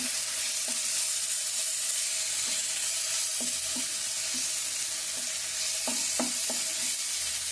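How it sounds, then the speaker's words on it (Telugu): Masala for a raw cashew and drumstick curry frying in a pan, a loud continuous hiss with scattered soft taps of a spoon stirring, close up. "మసాలాకి పచ్చి వాసన పోయేదాకా కొద్దిగా వేగితే మంచి వాసన బాగుంటుంది"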